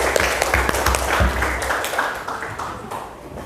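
An audience claps at a school health talk, a dense patter of hands that holds steady and then eases slightly toward the end, fairly close and loud.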